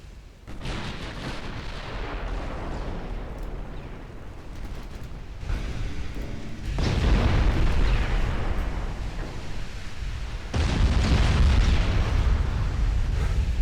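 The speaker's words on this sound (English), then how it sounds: "Big hit from a 12-inch gun" A 12-inch naval gun hit with heavy explosions in a naval battle video game, several deep booming blasts rolling one after another, loud and rumbling, with lingering roar between impacts.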